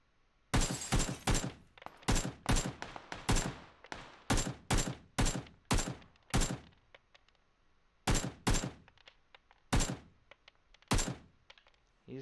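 Gunfire in the video game PUBG, a string of sharp loud shots in short bursts and singles with brief pauses, clicks and thumps in between.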